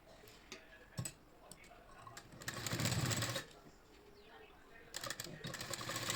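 An electric sewing machine stitches fabric cut from an old saree into a kurti, with short bursts of fast rattling clatter and a longer run, punctuated by ticking clicks and quiet pauses.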